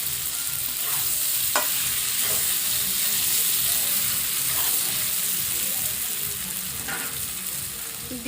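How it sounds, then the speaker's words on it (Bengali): Flat beans and potatoes sizzle loudly in a pan while a spoon stirs them, giving a dense continuous frying hiss with a few sharp scraping knocks. "সিম আলু খুব ভালোভাবে ভাজা হয়ে গেছে"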